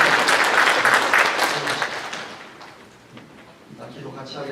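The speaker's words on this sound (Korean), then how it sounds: "박수로 한번 격려하겠습니다." A church congregation applauds at a worship service after choir members are appointed, a loud burst of many hands clapping that fades away over a few seconds.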